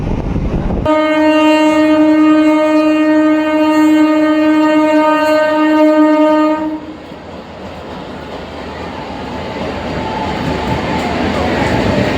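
A MEMU electric multiple-unit train crosses the Nasipur rail bridge, its long steady horn blaring loudly for about six seconds, then giving way to a continuous rumble and rattle of the cars rolling over the bridge.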